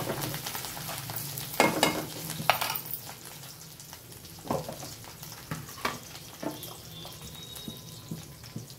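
Ingredients for betel leaf chutney fry in hot oil, a soft steady sizzle with intermittent clinks and scrapes of stirring, fairly faint and close.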